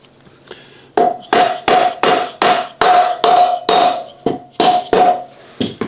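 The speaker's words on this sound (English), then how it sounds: "Give the axle just a couple love taps" A hammer taps the rear axle out of a BMW F800GS motorcycle, about a dozen sharp metallic blows in a steady rhythm, loud and close with no talking.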